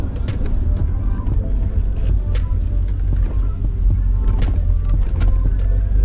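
A BMW E30 Baur convertible, over thirty years old, driving with steady broadband road and wind rumble pouring through an open window, loud and continuous with faint scattered clicks.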